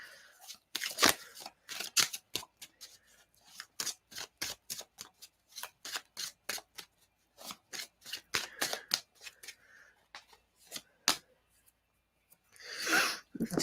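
Playing cards being shuffled, a long run of quick crisp riffling bursts at close range, irregular but steady in rhythm, followed by a brief rustle at the end.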